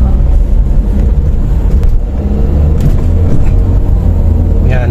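A 2001 Toyota Altis 1.8G, a car with an automatic transmission, drives along with a steady low engine drone and road rumble as its revs settle through a gear shift, heard from inside the cabin.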